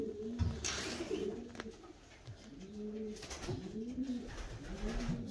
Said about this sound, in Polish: gołąb pocztowy